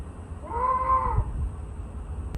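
A recorded goat bleat plays once as a Tesla's custom lock sound, short and fairly faint against a quiet background.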